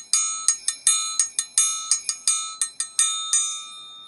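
A bell struck by foot rings out in about fifteen bright metallic strikes at an uneven, rhythmic pace, each ringing tone decaying before the next, loud and close with no voices.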